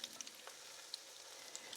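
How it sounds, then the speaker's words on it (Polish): Apple kefir pancakes frying in a pan over medium heat, a faint steady sizzle with small crackles and pops scattered throughout, no talking. "Placki z jabłkami smażymy na takim"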